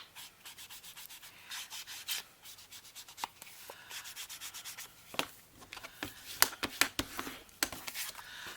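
An ink blending tool rubs ink onto paper in steady, close scratchy strokes, soft and repetitive with a few louder brushing passes toward the end, with no talk over it.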